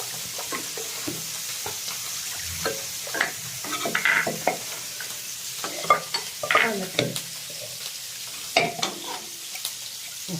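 Cucumber and mango curry for a Kerala recipe being stirred in a pot: close, repeated scraping and clinking strokes of the spoon over a steady bubbling sizzle, with no voices.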